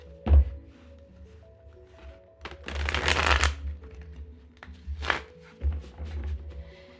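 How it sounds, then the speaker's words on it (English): Tarot cards, slightly thick, are riffled and shuffled in a few separate bursts, with quiet taps and a steady low hum between them. "I'm going to shuffle it with some reversals in there"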